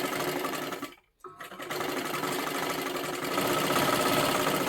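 Domestic sewing machine stitching a silky fabric lining, running in a fast steady whir with a brief pause near the start before resuming, close and clear.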